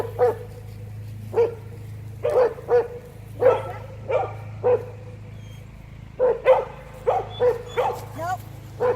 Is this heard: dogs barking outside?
yes